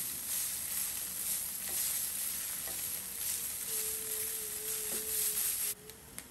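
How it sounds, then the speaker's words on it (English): Tofu and edamame fry on high heat, producing a steady, dense sizzle throughout with faint stirring clicks and a soft tonal hum partway through, before the sizzle drops slightly near the end. "Keep your tofu moving around. I like mine on a high heat because I want it to go a little bit crispy."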